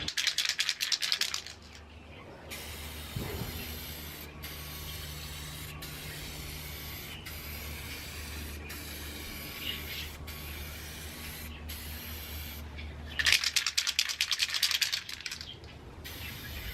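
Spray can hissing as paint goes onto a chrome bumper, a first-time job, in loud bursts at the start and again near the end, with quieter handling and rubbing sounds between.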